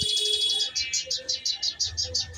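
A bird chirps overhead while a cat watches it, a quick run of about a dozen bright, evenly spaced tweets that are close and clear against a quiet background.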